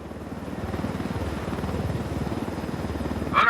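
Helicopter in the Ghost Recon Wildlands video game, a close rhythmic rotor chop with engine whine, steady and moderately loud, swelling slightly at the very end.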